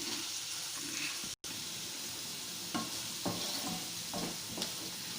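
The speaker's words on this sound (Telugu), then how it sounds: "ఈ ఉల్లిపాయలు బాగా ఫ్రై అవ్వాలి." Salted onions fry in a pan with a steady, close sizzle, and a few soft scrapes and knocks come as they are stirred. There is no talk.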